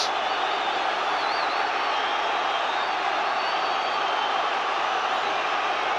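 Large football stadium crowd at a Celtic match, a continuous loud roar of massed voices with whistles and shouts rising over it, sustained without a break.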